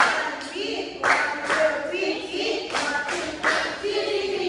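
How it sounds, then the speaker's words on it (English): Classmates give a quick clap for a student group during a class demonstration: a few sparse, uneven claps near the microphone, with some talking mixed in. "give a quick clap from group 2"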